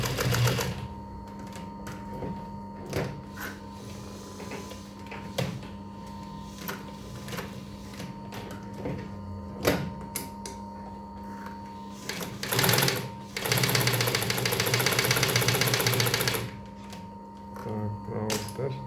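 A Pfaff 12-42 twin-needle sewing machine with needle disengagement runs in steady close whirring stretches broken by short pauses, with a loud sustained burst near the end and a voice talking at times.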